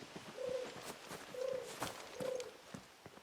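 A pigeon coos three times in a Final Fantasy XVI scene, each soft low coo close by, over a bed of light footsteps and ambient village bustle.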